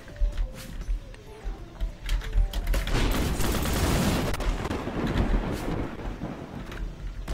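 A thunder attack effect from the Roblox game Rogue Demon crackles and booms in a dense, loud burst. It builds over several seconds into a roaring, gunfire-like barrage, then fades.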